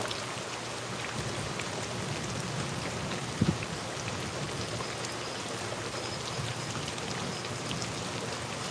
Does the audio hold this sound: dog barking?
no